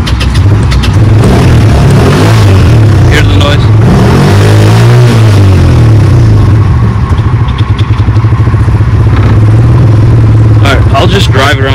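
A Massimo Buck 250 EFI gas golf kart engine starts and runs, a loud, close, steady mid-pitched putter with rising and falling revs, with a person talking over it at times.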